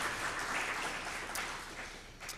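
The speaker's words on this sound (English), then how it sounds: "So let's give Jody a round of applause, too." A lecture audience gives a round of applause at a distinguished lecture event, a continuous, moderate wash of clapping that gradually thins out toward the end.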